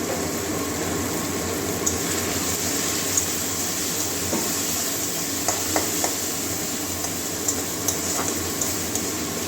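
Cumin seeds sizzle in hot oil while a curry of rohu fish roe is being prepared, a steady close crackle with a few sharp clinks of a spoon against the pan and no talk.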